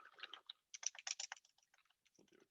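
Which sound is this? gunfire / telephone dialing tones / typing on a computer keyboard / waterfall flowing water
typing on a computer keyboard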